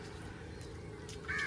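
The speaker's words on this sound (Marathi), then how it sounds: "कावला कावला ही है वो अपना पंख सुका रहा है" A crow on the Kerala backwaters gives a single short caw near the end, faint and somewhat distant over a steady low rumble from a tourist boat.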